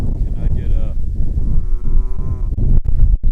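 Several cattle in a curious herd moo loudly and close by in a long drawn-out call, near a tornado memorial in Oklahoma, with low rumbling noise underneath.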